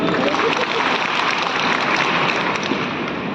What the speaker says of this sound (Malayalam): നമ്മുടെ മണിച്ചേട്ടനെ ഇഷ്ടമുള്ളവരൊന്ന് കൈയടിച്ചു